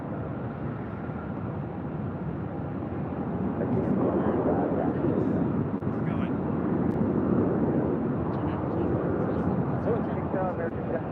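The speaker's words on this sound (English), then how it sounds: "This flight heading to Santa Ana, John Wayne Airport, the A320." An Airbus A320 airliner at Phoenix airport gives off a steady broad jet roar that swells partway through and then holds loud, while speech runs faintly beneath it.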